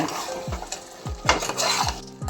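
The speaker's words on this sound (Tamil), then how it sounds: "இந்த காரத்தோட மிளகு காரம் போட்டு கலக்கிங்க" Black pepper being stirred into a beef masala, with a spoon repeatedly scraping the pan in quick strokes over a soft sizzle, close and fairly loud.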